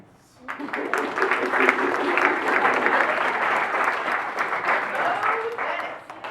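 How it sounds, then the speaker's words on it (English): Sustained audience applause for the Firestone Tomboys at a community theater play in Firestone Park, starting abruptly and holding steady and loud for several seconds, with some voices mixed into the crowd. "please a round of applause for the Firestone Tomboys"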